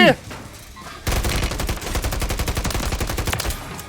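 A fast, sustained burst of video game gunfire rattles out loud and close for about three seconds after a brief quieter lull, with a short voice heard at the very start.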